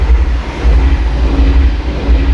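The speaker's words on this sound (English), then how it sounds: "There's a train going a couple of times an hour" A train passes outside an open studio window, a loud, steady low rumble with broadband roar that holds throughout the short stretch, heard without talk.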